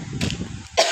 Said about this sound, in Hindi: मुझे फिर से खांसी हो।